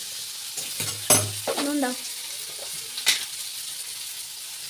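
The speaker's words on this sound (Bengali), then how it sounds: "আরে এখন আলুটা লাল করে ভাজা হবে তবে তো" Cut potatoes fry in a pan with a steady background hiss, stirred now and then in brief louder scrapes. A voice speaks briefly partway through.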